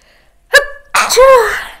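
A quick sharp intake of breath followed by a loud, close sneeze with a voiced, falling tail.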